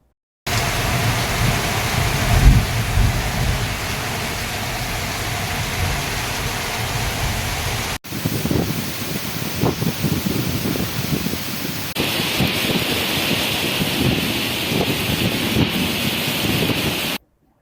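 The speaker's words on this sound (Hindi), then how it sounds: "भावनगर के पालीताना और ग्राम्य इलाके में तेज हवाओं के साथ धुआंधार बरसात दर्ज की गई" Heavy rain driven by strong wind in the rural Palitana area of Bhavnagar, Gujarat: a steady, loud, broadband roar lasting throughout, with the wind and rain shifting in character partway through and no voices.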